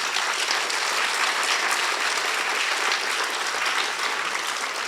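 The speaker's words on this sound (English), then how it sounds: "you need to give her a big round of applause" An audience at a Bharatanatyam arangetram dance debut gives a big round of applause, steady dense clapping from many hands, loud and continuous throughout with no voices.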